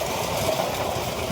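Tractor engine driving a rotavator through field soil, a steady rumbling drone with a continuous low churn, close and loud throughout with no pauses.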